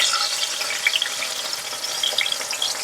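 Chopped tomatoes fry in hot oil in a wide pan, giving a steady, dense sizzle and crackle that stays close and fairly loud throughout, with no talking.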